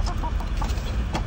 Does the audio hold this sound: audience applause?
no